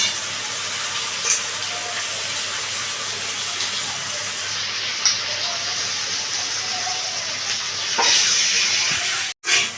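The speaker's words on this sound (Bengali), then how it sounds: "আদা রসুনটা আমি কিন্তু কষিয়ে নিলাম" Onion, tomato and ginger-garlic paste fry steadily in a pan, a continuous close hiss with a few small pops and no voices.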